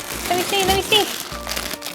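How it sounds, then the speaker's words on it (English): A plastic bag from a mail package crinkles and rips in short crackly bursts over about two seconds, close by, with people talking over the sound. "I'm just going to rip the plastic bag up instead"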